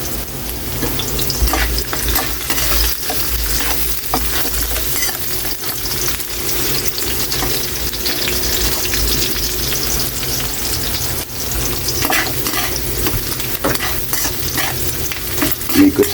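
Garlic frying in a pan while being stirred, a loud continuous sizzle with scraping stirring strokes across the pan, and no talk over it.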